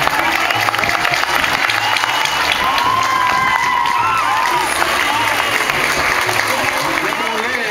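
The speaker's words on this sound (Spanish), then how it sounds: "Si les gusta, regalémosle un aplauso," Steady crowd applause at a military day celebration, sustained clapping mixed with some cheering and background crowd noise, fairly loud and continuous throughout.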